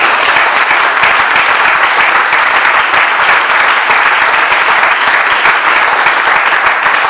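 A church congregation applauds, a dense, loud and sustained roar of many hands clapping with no pause.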